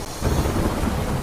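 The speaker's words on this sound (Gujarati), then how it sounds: "કોઝિકોડમાં ભારે વરસાદથી પૂરના દ્રશ્યો સર્જાયા" Heavy monsoon rain pours down in Kozhikode, Kerala, a dense steady roar with low rumbling, loud and continuous for the whole moment with no voices.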